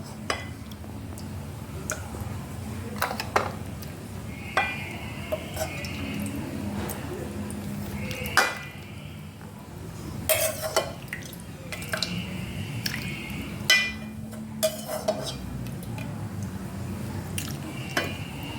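Soup of chicken drumsticks and mushrooms in a spicy Thai broth is ladled into a bowl, with soft drips, splashes and occasional clinks of ladle on bowl over a steady low kitchen hum, and a voice talking at times.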